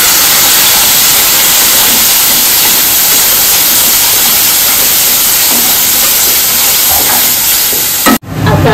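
Ground spice paste with asafoetida, chilli powder and salt frying in a pan for Goan-style pea usal, a loud continuous sizzle and hiss close by, cutting off abruptly near the end.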